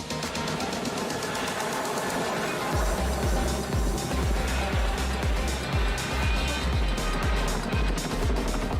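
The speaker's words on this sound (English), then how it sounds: "Have a look at this Chinook performing a handbrake turn at the RAF Wadding Air" A Chinook helicopter performing a handbrake turn at an RAF air show, its twin rotors beating in a loud, deep, steady thudding rhythm over a broad engine roar.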